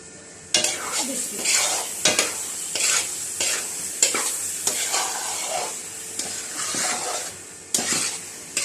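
A kadai of carrot halwa with cardamom powder being roasted and stirred over a low flame: a spoon scrapes and knocks against the pan again and again over a steady sizzle, close and continuous, with no talking.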